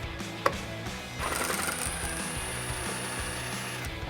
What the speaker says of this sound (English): grab a 10mm socket and remove this one bolt holding on the factory heat shield